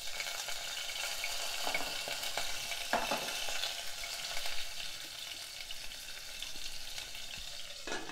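Drumstick pieces frying in hot oil with mustard seeds, cumin and a dried red chilli, a continuous bright crackling sizzle with occasional pops and faint stirring, fairly quiet and steady throughout.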